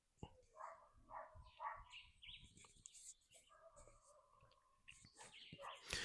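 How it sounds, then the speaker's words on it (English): Birds sing and chirp outdoors at sunrise in a mountain setting, with several overlapping calls and trills at a moderate distance, and faint voices murmur underneath at times. "You can should be able to hear the birds."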